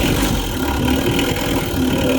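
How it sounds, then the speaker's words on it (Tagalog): A vehicle engine idles steadily and evenly at close range, a continuous low mechanical hum with no revving or pauses and no voices. "so ayan ang kuha ng makina natin. Andar ng makina natin."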